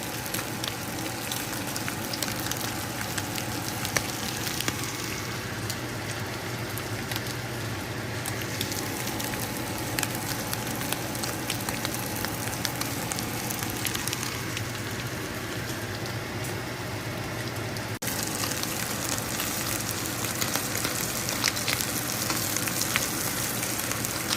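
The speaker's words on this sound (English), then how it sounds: "Sardine fry is almost done." Sardines frying in a pan give a continuous, even sizzle with dense crackling pops, steady and close throughout, with no voices.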